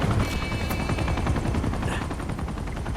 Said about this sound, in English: Now here's the helicopter boss fight.